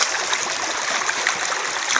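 Mountain spring water flows steadily and continuously, a close, even rushing stream sound with no pauses and no talk.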